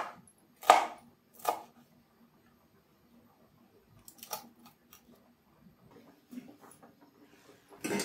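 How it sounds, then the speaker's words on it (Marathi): Green chillies are chopped on a board with a knife: two distinct close thuds early, then a quieter run of light, irregular taps and cuts. "मिरचीचे तुकडे करून घेऊया।"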